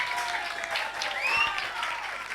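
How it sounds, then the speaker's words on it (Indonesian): Audience applause at the finals of an Islamic competition, a steady wash of clapping lasting the whole moment, fairly loud and continuous with a faint tonal whistle partway through. "Beri tepuk tangan yang meriah."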